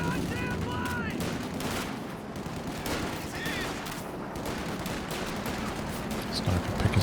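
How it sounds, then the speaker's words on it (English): Continuous gunfire and scattered sniper shots in a World War II real-time strategy game battle, with dense overlapping bursts of small-arms fire throughout, fairly loud and steady, some sharper cracks near the end. "Sniper picking some shots"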